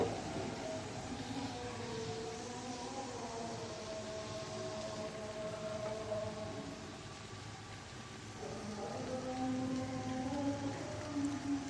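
Steady rain falls continuously through the whole stretch, a dense even hiss with low rumbling underneath, fairly close and unbroken, with no voices over it.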